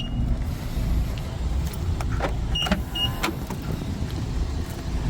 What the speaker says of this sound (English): It's gonna close the trunk,